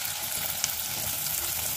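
Sliced onions dropped into hot oil with green chillies for bhindi do pyaza, a dense close crackling sizzle that holds steady throughout, with a tiny clink partway.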